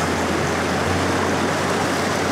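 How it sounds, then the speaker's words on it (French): The Ubaye, a cold mountain river in the Alps, rushes past in a loud, dense, unbroken roar of flowing water that holds steady throughout. "C'est une rivière très sympa, une rivière de montagne avec de l'eau très très froide"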